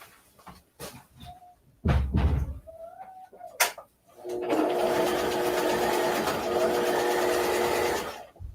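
A sewing machine stitches the seam of a drawstring bag in one steady run of about four seconds, with a continuous whirring hum. A few handling knocks and clicks come before it.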